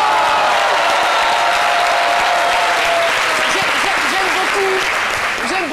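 Applause from a French-speaking audience at a live show, a loud dense wash of clapping with some cheering, close and sustained throughout, while voices rise over it toward the end.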